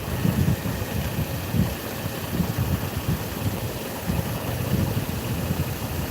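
A Chevrolet Trailblazer engine runs steadily while the throttle body flap is moved by hand, a low rumbling drone with slight pulsing swells and no clear revving, heard alone.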